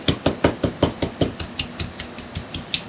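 A small baseball bat pounds an octopus to tenderize it for a Basque dish, a steady run of about fifteen dull, close thwacks that gradually soften, with no talking.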